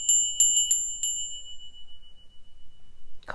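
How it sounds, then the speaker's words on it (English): A small handbell is rung to open a tarot reading, five bright, clear dings in quick succession, each ringing on and fading slowly into a long shimmering decay in a quiet room. "Forgot my bell. Let's open properly."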